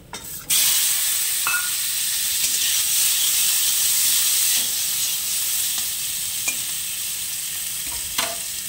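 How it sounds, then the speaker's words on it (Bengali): Potatoes hiss and sizzle steadily in hot oil for a singi fish curry, a bright, continuous frying sound with a few soft stirring scrapes and clinks scattered through it and no talking. "ভাজা হয়ে গেল, এবারে আলুটা ছেড়ে দেব"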